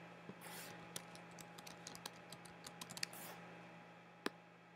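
Key clicks from typing on a computer keyboard while adding answer options in quiz-making software, a quiet, irregular run of light taps spread across the stretch with one sharper click near the end, no voices.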